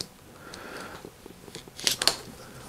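Old grips being cut off a Giant bike handlebar, a couple of sharp snipping cuts near the end after quiet handling sounds, close and fairly faint.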